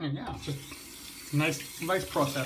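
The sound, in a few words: running tap water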